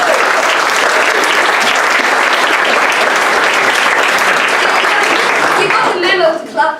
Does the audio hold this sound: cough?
no